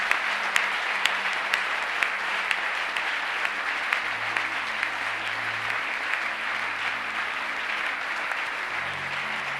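A church congregation at a Sunday worship service applauds steadily for several seconds, a dense, even clapping from a crowd in a large room, with faint sustained keyboard tones underneath.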